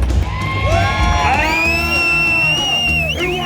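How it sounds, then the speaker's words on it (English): A huge crowd at a Nitro Circus motorsport event cheers and whoops loudly, with a rising shout and sustained yelling up close. "We just made our way through this huge crowd"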